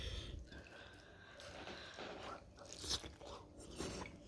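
Someone chews fried chicken gizzard close up, with soft biting and crunching bursts spread over a few seconds at low level and no talk.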